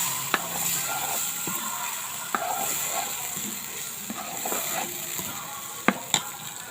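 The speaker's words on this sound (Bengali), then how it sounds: "এখন আমি মশলার মধ্যে ঢেলে দেবো, ভালো করে কষিয়ে নেব।" Half-broken potatoes are stirred and fried in a spice paste in a pan, giving a steady sizzle with scattered scrapes and stirring clicks close by, and no one talking.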